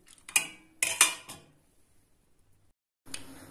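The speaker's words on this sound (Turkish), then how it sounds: "Şimdi ocağa alalım bunu." A cooking pot filled with water clanks onto a kitchen stove in a few sharp metallic knocks, close and loud, then a short pause and one more clatter.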